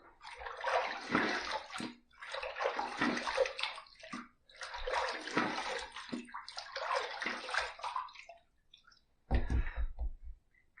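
Water splashed onto the face in rinsing after a shave with an adjustable injector razor, heard as four long sloshing bursts separated by brief pauses, close and fairly soft, followed by a short heavier splash.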